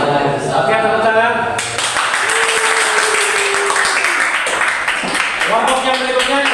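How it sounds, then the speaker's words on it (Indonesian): A crowd applauds with dense, sustained clapping while voices talk over it near the start and end. "Oke, tepuk tangan."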